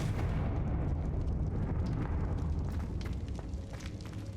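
A Confringo fire spell blasts in Hogwarts Legacy, a broad, rumbling explosive roar that swells and sustains for several seconds with crackling bursts on top, without any talk.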